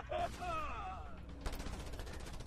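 Bursts of gunfire from the video game Just Cause 2 crackle amid game sound effects, loud and continuous over a busy mix, with a sweeping whine early on.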